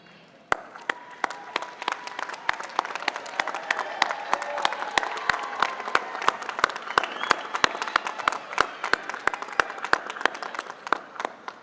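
Graduating students at a university commencement ceremony applaud their families, parents and friends, a sustained wave of many hands clapping with sharp individual claps standing out, building and holding steady across the hall.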